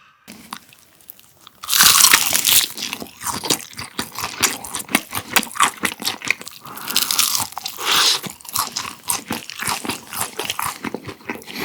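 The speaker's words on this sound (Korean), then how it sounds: "자 그러면 바로 먹어보죠 허니콤보" Kyochon Honey Combo fried chicken, wings and drumettes, is bitten and chewed close up, giving loud, rapid, repeated crunches after a quiet start, with no talking.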